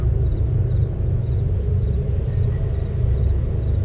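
Deep thunder rolls on without a break during a heavy evening storm, a steady, moderately loud low rumble with no voices.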